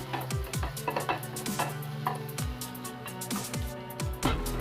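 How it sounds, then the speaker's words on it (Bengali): Onion and chillies fry in a little oil in a pan for an egg curry, with a sizzle under clinking and scraping stirs over steady background tones. "পেঁয়াজটা একটু ভাজতে দেবো, সঙ্গে যে লঙ্কাগুলো নিয়েছিলাম ওগুলো দিয়ে দেবো।"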